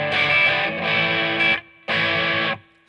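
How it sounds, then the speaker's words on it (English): Electric guitar played through an Alairex HALO Overdrive pedal in symmetrical clipping distortion mode: loud, gritty sustained chords in three bursts, the last cut off into a short ringing decay, with no talking. "So let's check out this distortion mode. So we're in the symmetrical clipping right now."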